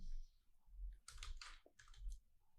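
Quiet typing on a computer keyboard while entering a filename, short bursts of crisp key clicks separated by brief pauses, close and soft, with no voices.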